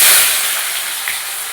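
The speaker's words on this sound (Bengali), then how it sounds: "পেঁয়াজটা ভেজে নিলাম, এখন দেবো মশলাটাও ভেজে নেবো ভালো মতন" Chopped onions and tomatoes hit hot oil in a pan and give a loud, close, steady sizzling hiss that starts strong and settles slightly over a brief moment.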